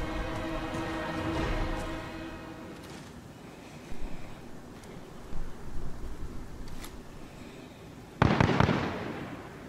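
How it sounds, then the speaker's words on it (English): Gunfire in Call of Duty: Warzone crackles in scattered distant bursts and pops over a low ambient rumble, closing with one louder, nearer blast. "Listen to where they're shooting at."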